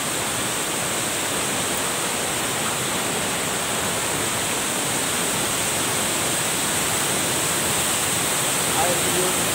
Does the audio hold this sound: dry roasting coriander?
no